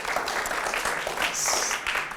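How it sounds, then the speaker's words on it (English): Audience applause at a developer group summit, steady dense clapping from many hands lasting throughout, moderately loud with no clear speech over it. "So Ria, clap, please feel free to clap."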